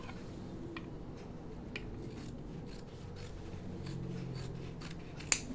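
Scissors trimming denim fabric while sewing jeans, a series of quiet, close snips and rustles spread unevenly through the clip, ending with one sharp louder click; no voices.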